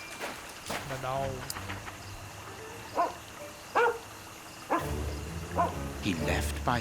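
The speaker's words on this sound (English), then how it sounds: "The dog." A dog barks and yips in short bursts in a game scene, the calls spread unevenly over several seconds, close and fairly loud with people talking between and over them.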